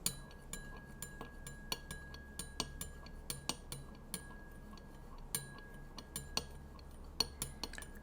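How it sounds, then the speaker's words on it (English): A spoon stirs a clear spirit drink in a glass at a bar, giving a steady run of light, close metallic clinks and taps against the glass in a quiet room. "We shall give this a stir."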